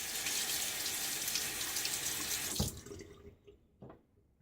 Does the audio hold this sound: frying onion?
no